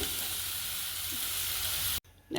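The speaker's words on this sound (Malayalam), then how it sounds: "അണ്ടിപ്പരിപ്പ് കോരി കോരി എടുത്ത നെയ്യിലേക്ക് നമുക്ക് ഈ ബീറ്റ്റൂട്ട് ഇട്ട് കൊടുക്കാം" Beetroot fries in hot ghee in a pan, a loud, dense, continuous sizzle close up that cuts off sharply near the end before resuming briefly.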